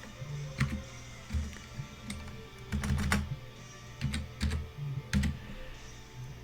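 Typing on a computer keyboard: bursts of clacking keystrokes in an irregular rhythm, close and moderately loud, with short pauses between runs and no voices.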